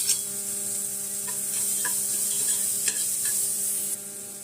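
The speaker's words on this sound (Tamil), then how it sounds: "பூண்டு ஒரு ஆறு ஏழு புல் தட்டி போட்டுடலாம் வதங்கிட்டு அதிலே நம்ம அரைஞ்சி வச்ச வெங்காயம் கொஞ்சம் வதங்கிட்டோம்" Crushed garlic cloves and ground onion sauté in a pan, giving a steady close sizzle with stirring scrapes and a few sharper spatters, and no talking.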